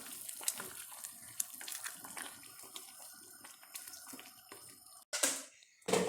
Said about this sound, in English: If you don't mix it, the bubbles from the sauce will go everywhere and make a sound.